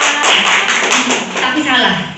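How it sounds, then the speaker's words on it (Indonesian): Applause from a workshop audience at a school in Pamekasan: a dense wash of many hands clapping close by, steady and sustained throughout, with voices mixed in. "tepuk tangan untuk Bapak"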